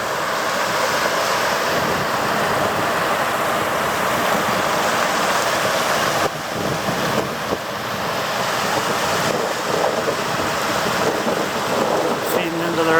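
Water rushing through a spillway out of a lake makes a loud, continuous broadband roar, steady and close, with no pauses.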